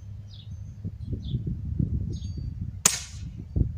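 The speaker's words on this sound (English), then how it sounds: "It is a very loud gun." A BB gun fired at a 30-yard target outdoors gives one sharp, loud crack near the end, set against a steady low rumble of wind and light background noise.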